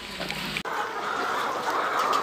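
Hens shut inside a coop for the evening, soft clucking and fluttery calls at moderate distance, with a brief dropout partway before a steady background of low chicken murmuring resumes.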